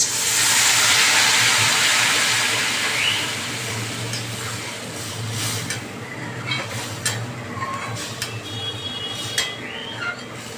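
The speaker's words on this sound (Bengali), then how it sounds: "এবার আমি জল ঢেলে দেবো" Water is poured into hot fried masala for a paneer recipe, setting off a loud, broad sizzle that peaks at once, then fades to a softer crackling hiss with scattered pops and clinks.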